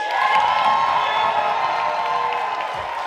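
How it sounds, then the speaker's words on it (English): Wedding reception guests cheering and clapping, a dense crowd roar with whoops and sustained applause that carries steadily through the room. "So do you think we could maybe give a little preview with some thunderous applause?"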